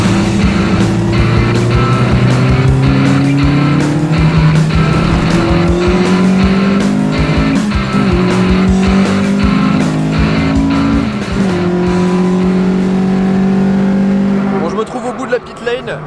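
A Lotus Exige S1 laps a race track, its engine note climbing and dropping through repeated gear changes under hard acceleration, loud and close from inside the car, with faint tire noise.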